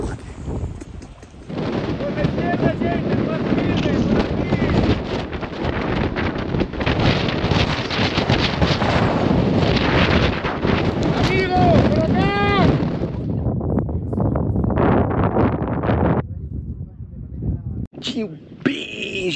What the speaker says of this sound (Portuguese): Tô passando por uma tormenta de areia.